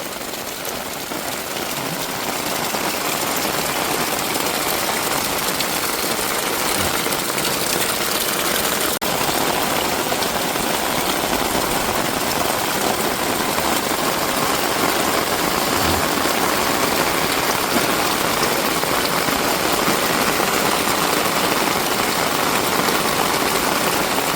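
Heavy rain pours down in a village as a loud, constant broadband hiss that holds steady throughout with no breaks.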